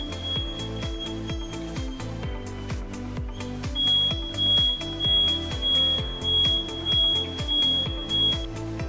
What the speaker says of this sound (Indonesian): lampu detektor logam akan menyala dengan terang dan alarm berbunyi dengan keras